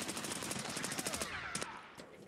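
Rapid bursts of automatic gunfire in a first-person shooter PvP match, with dense repeated shots over about two seconds that are loud and close, then a brief tail-off near the end.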